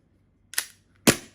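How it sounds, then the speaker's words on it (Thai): Two sharp pops from a WE Glock 35 custom airsoft pistol set to full auto, spaced about half a second apart, close and loud against a quiet background. "แล้วยิงนะครับ นี่คือออโต้นะครับ"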